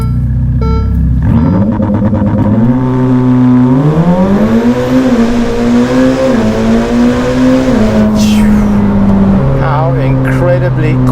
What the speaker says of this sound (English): How incredibly quick this car gets to 100, which is what our speed limit is here, is just ridiculous.